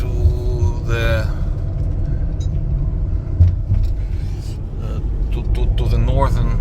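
Car interior on a road trip through northern West Ukraine toward the Belarus border, with loud, steady engine and road rumble throughout and people talking over it.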